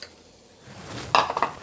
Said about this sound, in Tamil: நல்லா வெல்லம் கரையிற வரைக்கும் கிண்டி விடலாங்க.